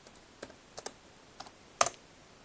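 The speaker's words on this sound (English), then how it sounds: "you need to type the following command to launch Cut Saturn graphic user interface" A command is typed on a computer keyboard in short, irregular bursts of crisp key clicks, close and clear, with a final louder cluster of strokes against a quiet background.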